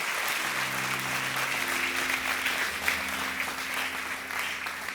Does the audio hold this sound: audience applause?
yes